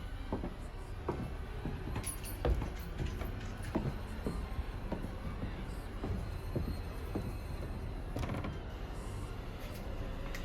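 Squeaky old floorboards creak and tick underfoot in a long irregular series of short snaps and groans over a dull indoor background.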